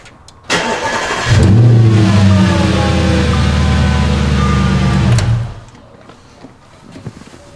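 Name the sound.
Audi S5 engine starting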